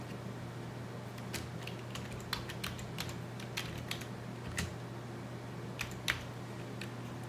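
A command typed on a computer keyboard: irregular light key clicks, close and quiet, over a faint steady electrical hum.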